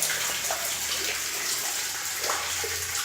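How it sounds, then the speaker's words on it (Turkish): Water gushes steadily and hard at a well drilling site, a broad, loud, continuous rush that splashes everywhere with no pauses. "şelale gibi her taraftan su akıyor"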